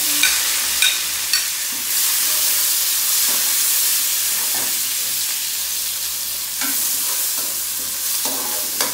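Garlic and onion sizzle loudly in a hot pan, a steady frying hiss broken by the occasional scrape and clink of a utensil stirring, heard up close with no one talking.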